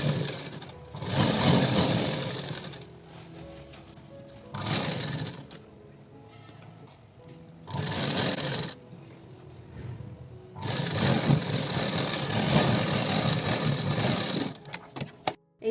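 An electric sewing machine stitches a blouse in bursts, running several times for one to four seconds each with quiet pauses between, a steady whirring hum that stops and starts.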